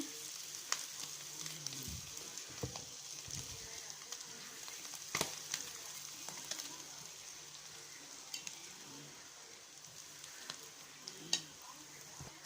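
Cooked rice tipped into a hot pan for chicken fried rice, a quiet sizzle with a few soft thuds and scrapes early on, then a low steady frying hiss.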